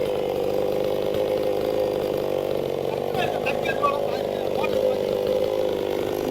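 Chainsaw cutting through a tree, a sustained droning engine whine running steadily throughout, with a voice talking over it.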